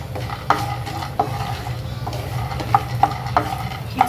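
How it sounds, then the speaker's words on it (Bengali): Fried peanuts are stirred in hot oil in a pan, with sharp scraping clinks of the utensil coming every half second or so over a low, soft sizzle and kitchen hum. "শুধু তেলের মধ্যে একটু নেড়ে নিচ্ছি যেন এটার টেস্টটা ভালো আসে"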